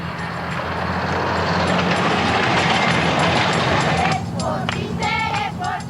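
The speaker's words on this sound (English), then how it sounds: "This diesel is the future of the railway." Diesel train running on a railway in Ecuador, a steady loud rumble and rolling clatter throughout, with voices talking over the later part.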